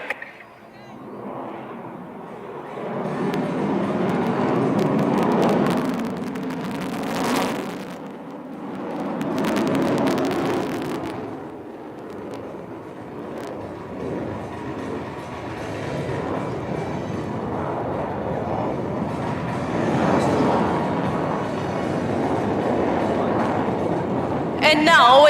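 Su-30 MKI fighter jet tumbling through an air show display over Marina Beach, its engine roar swelling and surging in loud waves, with a commentator speaking over it throughout.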